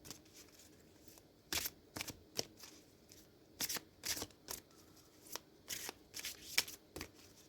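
A deck of cards being shuffled during a tarot or oracle reading, heard as several quick riffling bursts spaced irregularly over a quiet room background, fairly faint and without talk.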